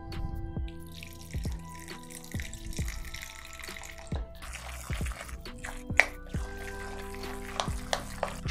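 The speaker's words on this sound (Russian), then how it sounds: "И добавляем воду." Cold water trickles and drips into a bowl of minced meat for dumplings with onion and garlic, a run of close splashy drips and small pours.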